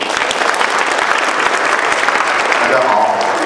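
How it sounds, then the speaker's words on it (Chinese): An audience at a gospel music evangelistic gathering in Atlanta gives sustained, fairly loud applause to welcome a speaker, a dense even patter of clapping with faint voices mixed in. "请你们掌声鼓励他"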